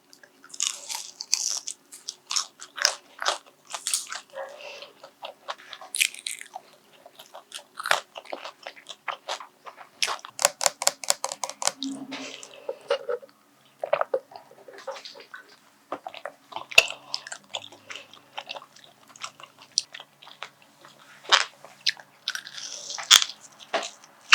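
Crunchy food bitten and chewed up close in an ASMR eating break, a steady run of crisp crunches and wet chewing with short pauses and no talking.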